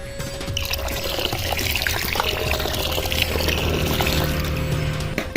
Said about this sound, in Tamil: தண்ணி பத்தாதுங்க நான் கொஞ்சம் தண்ணி